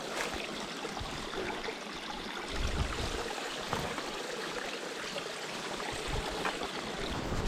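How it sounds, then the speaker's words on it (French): Small mountain stream in the Pyrenees flowing steadily at about 2000 metres, a dense continuous rushing and trickling close by with no voices. "Le petit ruisseau qu'il y avait à la montée."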